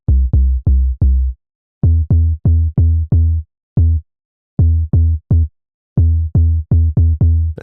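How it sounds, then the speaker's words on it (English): A deep Afro house synth bass with a round, tom-drum-like thump plays short punchy notes in a syncopated rhythmic pattern, loud and dry with silent gaps between hits and nothing else sounding. "Bass play is a deep bass that sounds like a tom drum."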